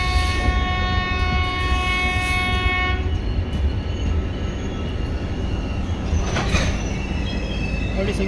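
A loud horn from Indian train 22472 sounds in one sustained blast for about three seconds over the heavy rumble of the train, which keeps rolling afterward.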